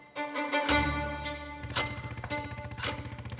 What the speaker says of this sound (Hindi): ये पीछे किसी मोटरसाइकिल की आवाज है।